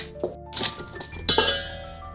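Chicken and tapioca for kappa biryani are tipped into a large metal pot, with bright clinks and scraping clatter of utensil on vessel in several close bursts.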